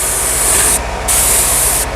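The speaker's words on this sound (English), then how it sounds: "Spray that nicely just to give it that nice pop." Dressing sprays onto the face of a car steering wheel in two loud, close hissing bursts, with a brief gap between them.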